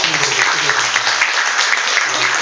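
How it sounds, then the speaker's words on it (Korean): Dense, loud applause from an audience at a civic talk event in Incheon, a continuous roar of many hands clapping with faint voices murmuring underneath. "큰 격려 박수만 좀 부탁드립니다"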